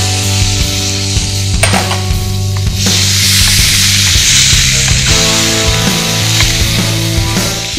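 Ginger garlic paste and chopped tomato pieces frying in a pan for egg biryani gravy, a loud close continuous sizzle with scattered stirring clatters and utensil knocks, no talk.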